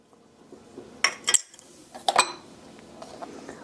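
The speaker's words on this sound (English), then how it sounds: "I'm going to kind of stir that up in my mixing bowl" Ingredients for baked lemon curd donuts being stirred in a mixing bowl, with two bursts of clinking and scraping of a utensil against the bowl, then softer rustling, no voices.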